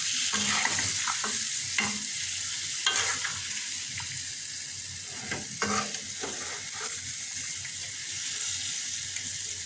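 Biryani spices being sautéed in a pan, a steady sizzle and frying hiss with repeated scraping stir strokes and clinks of a utensil, fairly close and continuous, with no talking.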